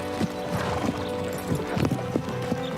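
Garnet, a groomed horse, clip-clops at a trot with rhythmic hoofbeats over a steady background, a whinny rising briefly near the middle.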